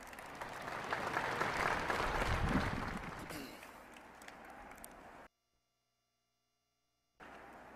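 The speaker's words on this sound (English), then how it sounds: "Let's give them another round of applause." A crowd gathered outdoors for the opening of the new I-74 Mississippi River Bridge applauds, a dense wash of clapping that swells and then fades, stops abruptly into near silence, and briefly resumes at the end.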